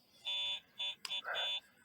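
Electronic bite alarm on a carp fishing rod by a river, stuck on and unable to be switched off, sounding a series of loud two-tone beeps in uneven bursts with no talk.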